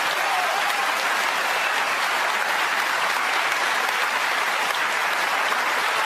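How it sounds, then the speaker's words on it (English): A snooker crowd at the World Championship final applauds a century break, a dense and steady roar of clapping that holds at an even level from start to finish with no voices standing out. "They're cheering him on here."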